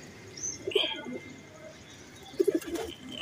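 Pigeons of a fancy teddy breed coo softly, with a couple of brief calls near the start and a short cluster of low coos toward the end against quiet background.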